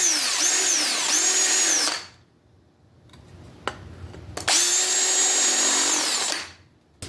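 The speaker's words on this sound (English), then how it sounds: "we do want these to be clearance holes and countersunk, so we'll just use our countersunk." A power drill bores countersunk clearance holes while building a DIY river tube motor, two loud sustained whining bursts separated by a quiet pause with faint handling clicks.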